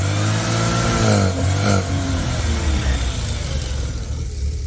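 A rotary engine fitted with a 48mm IDA Weber carburettor catches and revs, loud and close, its pitch rising and falling through a couple of blips before settling into a rough, uneven idle.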